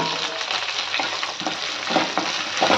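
Mango pieces are stirred in a hot pan for a mango jaggery curry, a steady close sizzle with soft scraping stir strokes recurring every second or so.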